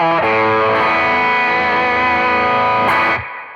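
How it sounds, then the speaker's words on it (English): Electric guitar through a high-gain overdrive pedal called the Dude on a pedalboard, one heavily distorted chord ringing loud and thick, then re-struck near the end and cut off. "this pedal called the Dude, and this is my high gain overdrive pedal"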